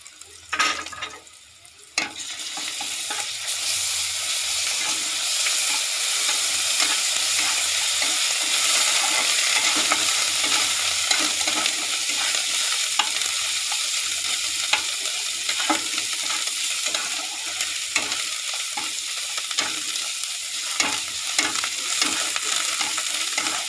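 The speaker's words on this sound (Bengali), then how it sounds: "আদা রসুনের বাটাটা দিয়ে দিচ্ছি।" Ginger garlic paste hits hot oil in a pan, a sharp burst followed by a loud, continuous sizzle that holds steady, with occasional stirring scrapes.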